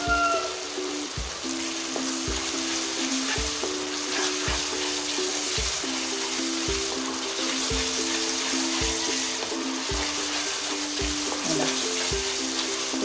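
Schezwan sauce with a little sugar fries in a pan under a loud, constant sizzling hiss, while a utensil knocks the pan in regular stirring strokes roughly every second.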